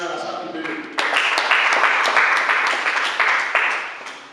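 An assembly audience breaks into loud applause after a quieter opening moment, the clapping swelling and continuing steadily to the end.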